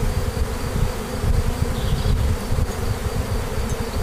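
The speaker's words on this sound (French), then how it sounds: "Sortie des abeilles suite à l'imprégnation à l'essence de Mirban sous la toiture." Honeybees pour out from under a roof after the space is soaked with mirbane oil, a loud, dense, continuous buzzing of the swarm heard close up without any voices.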